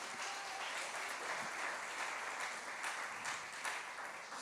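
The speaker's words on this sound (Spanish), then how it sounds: "¿cuánto le dan un aplauso al Señor esta noche?" A church congregation claps for the Lord during an evening service, a steady wash of applause heard from a distance, fairly faint and even throughout, with no speech over it.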